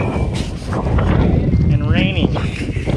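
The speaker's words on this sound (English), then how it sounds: "It is windy" Strong wind buffets the microphone with low rumbling gusts throughout on a wet, rainy, muddy gravel bike ride, and a voice is briefly heard beneath the noise.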